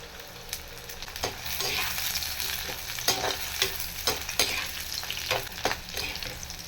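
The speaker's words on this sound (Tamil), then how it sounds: "பூண்டு நல்லா வதங்கிடுச்சு" Garlic sautéing in a pan until it changes colour, for garlic dosa: a continuous close sizzle with repeated scraping and clicking strokes as it is stirred, fairly even in loudness.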